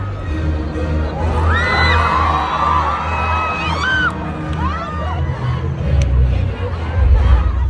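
Fans at a concert in Abu Dhabi, UAE cheer as the group appears, a large stadium crowd with high whoops, shrieks and screams rising over dense babble and a low rumble, sustained throughout and swelling toward the end.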